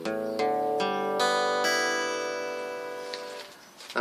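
Acoustic guitar strings strummed and plucked to check tuning, several bright overlapping notes struck in quick succession and left to ring out and decay, fairly quiet and close, with no speech.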